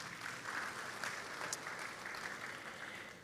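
Applause from a church congregation, a steady wash of clapping that stays loud and even throughout, with no voices over it.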